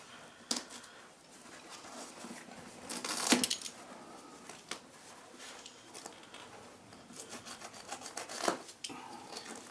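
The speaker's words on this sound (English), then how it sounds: "So just gently cut the leather." A knife gently slices and scrapes through the leather of a classic Jaguar E-Type V12 car seat during restoration, quiet rasping strokes with a few louder scuffs, close and without talk.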